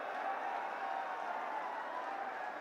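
Crowd at a Rahul Gandhi political rally in Nuh, Mewat, Haryana applauds as a dense, steady wash of clapping that holds evenly for the whole stretch and sounds somewhat distant.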